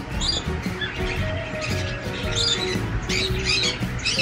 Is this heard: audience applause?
no